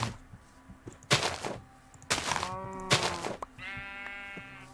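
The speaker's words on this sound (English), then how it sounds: "Sheep!" Sheep in modded Minecraft bleat repeatedly, four distinct loud, close bleats spaced about a second apart, with faint game noises between them.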